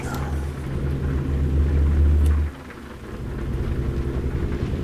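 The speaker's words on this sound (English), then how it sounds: "I like the thunderstorm here." Heavy rain and rumbling thunder in an American Truck Simulator storm, a loud low roll for the first half that drops away, leaving steady rain hiss.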